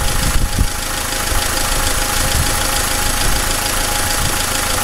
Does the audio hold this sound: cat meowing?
no